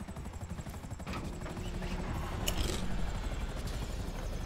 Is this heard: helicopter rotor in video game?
yes